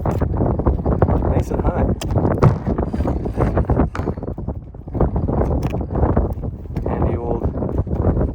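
Strong gusting wind buffets the microphone outdoors beside a Fendt Rogator sprayer, a constant loud rumble under a man's speech throughout.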